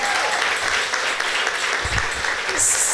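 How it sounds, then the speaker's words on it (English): An audience applauding at an evening event in Holyoke, a thick continuous roll of clapping at close range, with a bit of background voice underneath. "give her a clap"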